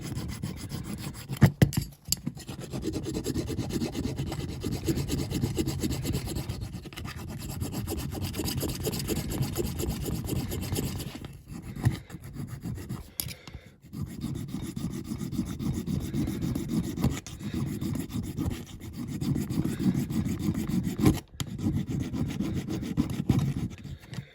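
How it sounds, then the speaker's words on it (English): Rough spots on a Corgi Mercedes ambulance model, being made into a banger racing car, sanded down in a continuous close rasping scrub, with a few short breaks between passes. "So sand down all these rough bits here and there."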